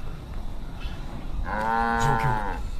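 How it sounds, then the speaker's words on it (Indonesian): A single drawn-out cow moo swells in the second half, loud and close, following quieter background rustling. "cuma sapi."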